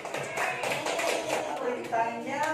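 A class of students claps together in a sustained burst of applause, dense and even throughout, with no talk over it.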